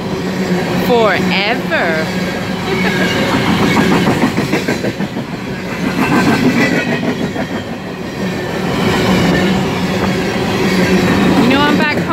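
BNSF freight train 9024, hauled by four engines with 125 cars, rolls past loud and close with a steady rumble, rhythmic wheel clatter and brief squeals, and someone speaks briefly over it.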